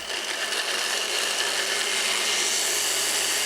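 Blender whizzing roughly chopped ginger and garlic for a chicken tikka tandoori marinade, a steady, loud, continuous high whir that holds unbroken throughout with no talk.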